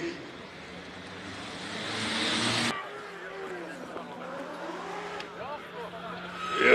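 A diesel Fiat Punto Grande race car runs a Cape Town hillclimb, its engine building to a rising drone that drops off sharply. Quieter revving and shifting follow, partly under a commentator's voice.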